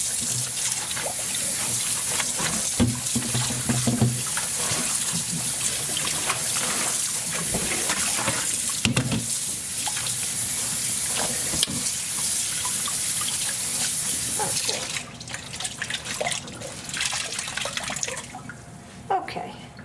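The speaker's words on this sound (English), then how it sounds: "I'm just going to lightly rinse this." Water from a tap runs steadily as dyed linen is lightly rinsed under it, a close, continuous splashing rush that eases slightly near the end.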